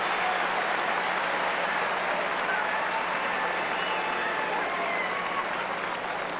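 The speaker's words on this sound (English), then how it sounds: "The crowd love it." Tennis crowd at a 1996 Cincinnati semifinal cheering and applauding, a loud, sustained wash of clapping that holds steady throughout with no clear breaks.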